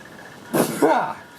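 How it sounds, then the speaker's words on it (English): A single close sneeze bursts out sharply with a short voiced tail, alone against a quiet room. "I'm gonna sneeze."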